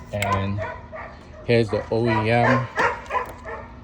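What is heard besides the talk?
dog barking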